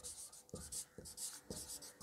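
Pen or pencil writes by hand on paper in a quiet room, with soft scratchy strokes repeating in short bursts and small taps at each new stroke.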